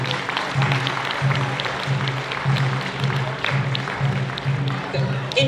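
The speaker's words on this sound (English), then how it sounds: "Once again, another round of applause for Tucson Kendo Kai." Outdoor festival crowd applauding after a kendo demonstration on the main stage, scattered clapping mixed with crowd murmur over a repeating low pulsing background.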